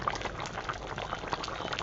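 Fish curry with large potato pieces and ground cumin boils in a pot, a steady close bubbling and popping that churns without pause, with no voices.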